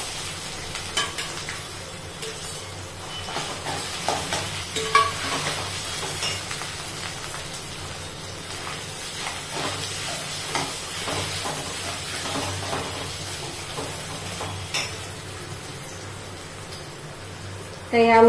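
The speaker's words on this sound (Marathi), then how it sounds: "अद्रक परतून झालं की मग त्याच्यामध्ये आपल्याला हा जो किसून घेतलेला बटाटा आहे हा घालायचा." Grated potato stirred into hot oil with ginger in a pan for batata saran, giving a steady close sizzle and hiss with scraping stir noises throughout, no voices.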